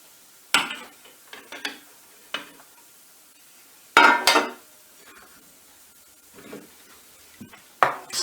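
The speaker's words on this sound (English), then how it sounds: "Stir that through" A spoon stirs grated cheese into a sauce in a pan on the stove, giving intermittent scraping clinks and taps against the metal, close and fairly quiet, with short pauses between strokes and no talking.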